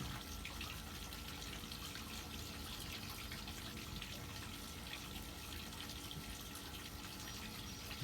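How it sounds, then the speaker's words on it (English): Water flows steadily in a duck pond circulated by a quiet DC pump, a faint, continuous trickling wash lasting several seconds with no talk over it. "You can hear the water a lot better."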